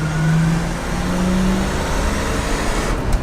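A Mercury Cougar barn find, revived after 40 years, drives along with its engine running steadily and close, a loud continuous rumble with rising tones as it accelerates, and no speech.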